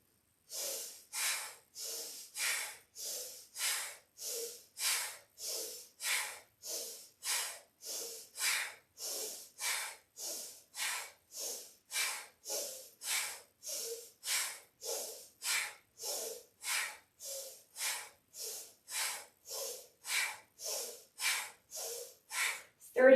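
Rhythmic yoga breathing, a steady train of about thirty-four even breath bursts, close and alone, paced with inhales and exhales during a nervous-system yoga exercise.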